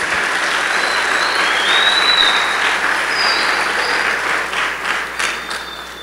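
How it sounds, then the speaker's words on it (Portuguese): Church congregation applauding together in a sustained, loud burst of clapping with faint cheers, steady for several seconds before tapering slightly at the end. "Pode aplaudir a Jesus."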